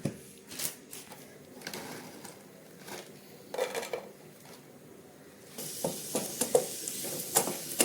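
Ghee heats in a pan to fry dry fruits for a ragi protein laddu. Faint utensil clinks come first, then a soft, steady sizzling hiss rises over the last two seconds.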